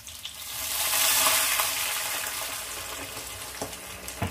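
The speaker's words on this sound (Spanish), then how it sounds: "se lo echamos y lo dejamos aquí que el vino reduzca un poquito." White wine poured into a hot pan of browned pork knuckle and onion sets off a surging hiss that swells within the first second, then settles into a steady sizzle with a few light clinks.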